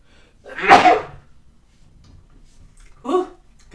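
A single loud, close sneeze bursts out, followed a couple of seconds later by a brief murmured voice.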